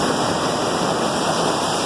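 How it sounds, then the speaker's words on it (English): Ocean surf rolls in at Sebastian Inlet, Florida, on a sunny February day, a steady loud broadband wash of breaking waves with no pauses and no voices. "You got some serious waves out here."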